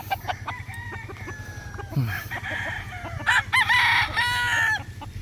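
Several tethered young stag roosters crow one after another, the calls overlapping and fairly close, with a steady low hum running underneath throughout.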